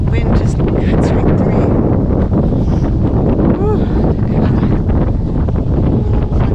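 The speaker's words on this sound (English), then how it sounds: "It's really cold and windy though." Strong, cold wind blasts steadily across the microphone near a glacier in Alaska, a continuous loud roar of buffeting gusts with no pauses.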